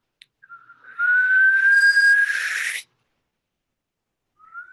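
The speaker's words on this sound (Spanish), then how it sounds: "¿estás aspirando al chiflar?" A single sustained whistled note rises slightly and holds for about two seconds, close by, followed by a brief faint whistle afterward.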